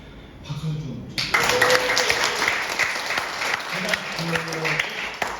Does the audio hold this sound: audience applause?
yes